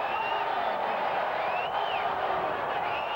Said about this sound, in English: The crowd gets a bigger kick out of getting off Velasco than they do cheering for the Bows